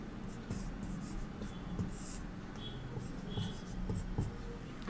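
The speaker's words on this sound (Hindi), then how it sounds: "तो क में हम लोग लिखेंगे यहाँ पर" Pen or chalk writing on a surface during a Class VIII Sanskrit lesson, a steady soft scratching that runs through the whole stretch, close and fairly quiet with faint room noise.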